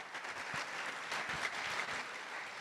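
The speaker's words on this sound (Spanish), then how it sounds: "¿Cuánto le pueden dar un aplauso a Dios por eso?" A church congregation claps together in a soft, even round of applause that is heard from a distance and lasts a few seconds.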